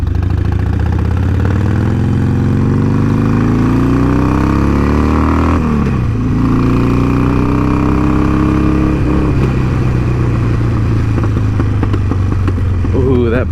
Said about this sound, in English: That backfire though